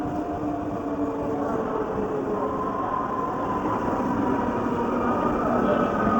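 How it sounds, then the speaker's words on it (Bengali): A train pulling into a station, heard as a steady, fairly loud rolling rumble with sustained mechanical tones running unbroken throughout. "এই যে আমাদের ট্রেন চলে এসেছে"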